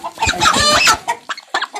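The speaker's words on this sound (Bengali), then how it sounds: "দেখুন আসলে মুরগিটি কত সুন্দর" A Colombian Brahma hen of laying age clucks close by, a drawn-out cackle followed by several short, sharp clucks, with no talking.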